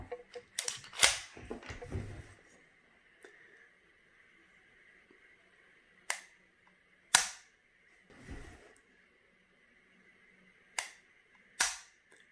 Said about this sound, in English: We'll take the alignment trigger gauge and do some trigger pulls